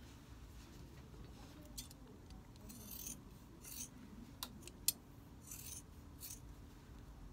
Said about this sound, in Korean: 그럼 일단 한쪽 더 잘라 보겠습니다.